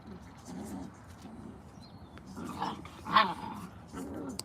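Puppies give soft whimpers and a few low growls, faint and scattered, with one sharper yip near the end, while a person talks quietly.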